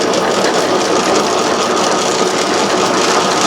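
A Garvin lathe running just after gear lube was added to it, giving a loud, steady mechanical drone and whir that holds an even level throughout with no talk.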